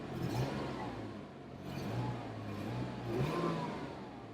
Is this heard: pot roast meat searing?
no